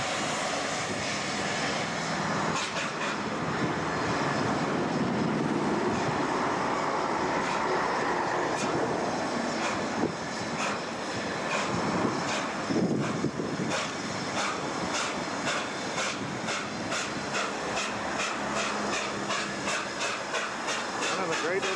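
A narrow-gauge steam locomotive on the Festiniog Railway in Wales pulls out, a continuous loud rumble with rhythmic chuffing and hiss building as it approaches, with someone speaking over it.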